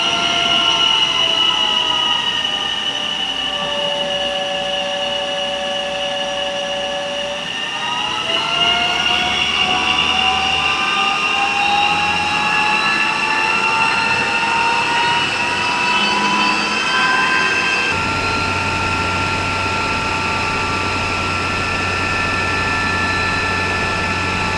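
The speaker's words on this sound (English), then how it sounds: "the dyno's just going to put a straight load on it, and we're just going to watch it at certain RPMs for an extended period of time" A farm tractor engine runs under steady dynamometer load, a loud continuous drone with layered whining tones that shift in pitch twice as engine speed changes, with no voices.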